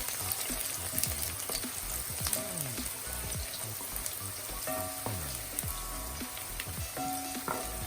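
Sliced onions frying toward golden in a pan, a steady close sizzle with stirring and crackling pops throughout, no talking.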